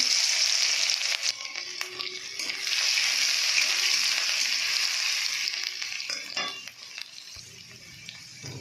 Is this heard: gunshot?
no